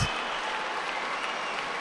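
Georgian crowd at a judo Grand Prix in Tbilisi cheering and applauding in a dense, steady wash of noise that fills the arena for a brief moment.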